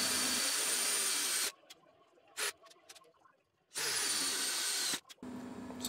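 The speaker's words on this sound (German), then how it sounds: "Jetzt werden wir noch an diesem Gestell und an dem anderen Gestell Bohrungen anbringen" A power drill boring holes into a metal frame, two loud sustained bursts of whining drilling separated by a quieter gap with scattered clicks and handling noise.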